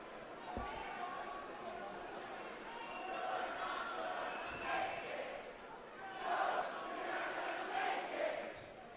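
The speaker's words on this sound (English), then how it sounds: "this place just erupts every time someone's about to shoot a free throw" A crowd at a boys high school basketball game swells into a loud roar during a free throw, with a ball thumping on the court and a commentator talking over the noise.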